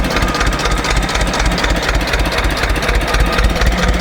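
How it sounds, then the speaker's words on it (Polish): A tractor engine runs steadily and loud close by, with a rough, knocking low-end chug throughout and no pauses or talk. "już opanowała jazdę ciągnikiem"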